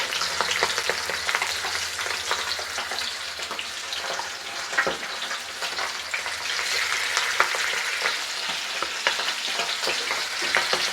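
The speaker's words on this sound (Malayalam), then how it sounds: "മീൻ്റെ മുട്ട പൊരിക്കട്ടെ" Fish roe frying in a pan of hot oil, a steady, dense sizzle with crackling spits running close and loud throughout with no talking.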